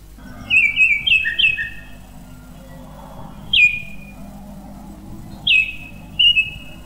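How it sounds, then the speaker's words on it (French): A cheerful songbird sings in a forest, delivering a lively burst of bright, warbling chirps followed by two shorter, separate whistled phrases, clear and fairly close over a low background hum. "Tiramilu, le plus heureux des oiseaux, chante son plus beau chant"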